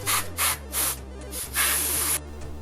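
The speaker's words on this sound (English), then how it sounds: "Then you can use compressed air to dry the plastic part in every little corner." Compressed air blasts dry the plastic casing parts of a Commodore 1541-II floppy drive, in several short, loud, close hissing bursts separated by brief pauses over a faint low hum.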